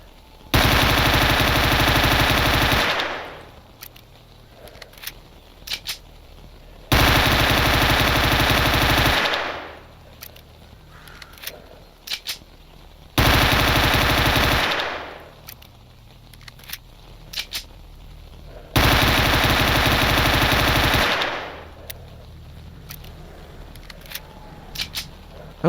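A 9mm handgun in S.T.A.L.K.E.R. Anomaly fires in four long, rapid strings of loud shots, each separated by a few seconds of quieter gaps with scattered clicks.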